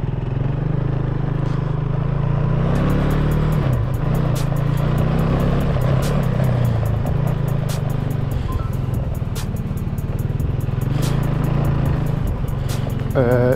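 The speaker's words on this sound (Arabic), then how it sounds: "حاليا ناخذنا فرع بالدراجة نشوف رأينا بيها" A Benelli TRK 250 adventure motorcycle being ridden, its engine drone steady and loud up close, with wind rush and rapid ticking over the top throughout.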